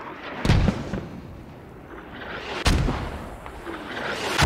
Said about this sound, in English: They're letting these mortars land right in front of them and not doing anything.